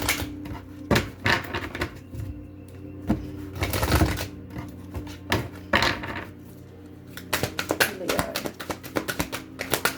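Oracle cards being shuffled by hand, with repeated crisp slapping and riffling taps in irregular bursts, close and fairly loud, while a person talks over it at times.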